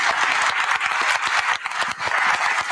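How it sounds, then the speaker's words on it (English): Steady, dense applause from an election forum audience fills the space at close range, with continuous overlapping claps and no voices. "let's give them a round of applause"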